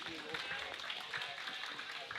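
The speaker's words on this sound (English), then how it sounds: "We've got applause in the warm room for the folks who made dinner." Applause from a crowd in the warm room of a curling club during a club spiel: a steady, faint wash of clapping heard from a distance beneath commentary.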